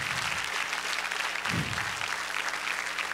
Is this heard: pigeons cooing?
no